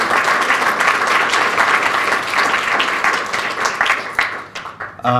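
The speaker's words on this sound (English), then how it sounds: "a round of applause" Sustained audience applause at a film festival closing-night awards press conference, a dense steady clapping that holds loud before thinning and fading toward the end, with a faint voice near the close.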